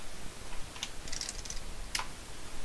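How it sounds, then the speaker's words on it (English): A few soft, sparse keystrokes on a computer keyboard as a command is typed at a command prompt, faint clicks over a steady background hiss. "So open a command prompt and type in Java minus version."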